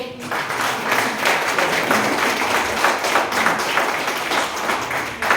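Audience applause for a guest of honour at a Budget 2023 programme in India: steady, dense clapping from a crowd in a hall, holding at an even level for several seconds.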